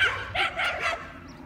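A few short dog barks and yips in quick succession during a dog-attack provocation training session, fairly close, followed by a quieter whimper.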